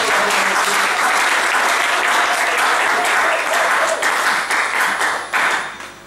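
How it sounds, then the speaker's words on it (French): A church congregation applauding, dense loud clapping from many people filling the space and sustained throughout, tapering off slightly at the very end. "Acclamez 3 fois."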